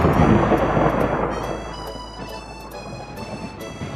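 Rumbling thunder from a thunderstorm rolls in the distance, a low, fading boom that decays over a few seconds, with faint patter of rain in the background.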